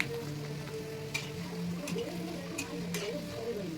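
Papad frying in hot oil, giving a low, steady sizzle close by with occasional sharp spattering pops and crackles.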